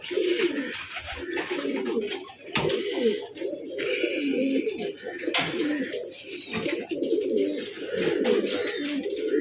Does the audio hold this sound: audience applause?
no